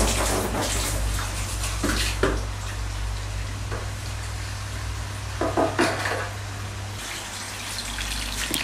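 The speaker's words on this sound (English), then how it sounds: "So I'm going to put the same amount of water in this next container now, of my bubbled water" Bubbled water from a nutrient tank pours and splashes into a container, with a steady gushing flow and intermittent clinks and knocks of plastic, fairly quiet and close, without speech.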